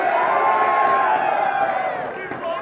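A large crowd at an IPL4 esports tournament in Las Vegas cheers and whoops loudly and continuously, a dense roar of many voices that fades slightly toward the end.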